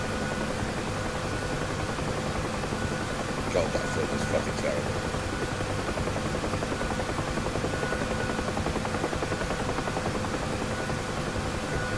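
A helicopter's rotor and engine drone steadily and loudly in the DCS flight simulator, a continuous whirring hum beneath a voice talking over it.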